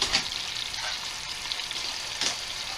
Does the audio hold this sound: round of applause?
no